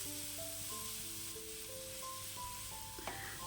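Onions sizzle steadily in a pan while cooking for egg thoran, a soft continuous frying hiss heard up close with no talking.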